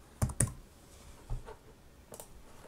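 A few scattered computer keyboard keystrokes, about four or five short clicks spread over a couple of seconds, close and fairly quiet with no talk.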